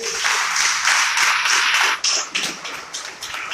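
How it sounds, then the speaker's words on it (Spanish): A church congregation giving loud applause after a sermon, a dense burst of many hands clapping close and full, swelling and then thinning into scattered claps toward the end. "Entonces denle un aplauso fuerte."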